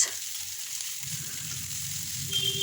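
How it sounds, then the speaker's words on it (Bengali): Chopped onions frying in oil with whole spices in a chicken dish, a soft, steady sizzle heard close up with light stirring noise and no talking. "এরপর আমি এর মধ্যে দিয়ে দিচ্ছি কেটে রাখা পেঁয়াজ।"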